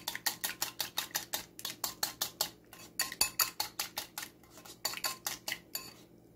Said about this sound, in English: So I have 2 eggs here that I'm beating, and I'm gonna go ahead and add it to my mixture.